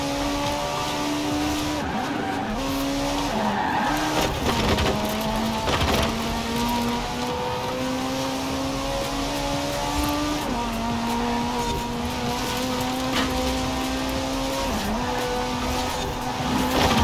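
Racing cars in the Forza Horizon 4 video game, a continuous loud engine drone that rises through gears with shifting pitch, plus brief tire noise and bumps, with no pause across the whole stretch.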